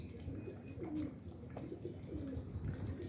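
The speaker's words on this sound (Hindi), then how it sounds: "ये चीना कबूतर है" A Teddy pigeon, a Pakistani breed, coos softly in a few low, throaty bursts, fairly faint and close, with light background noise.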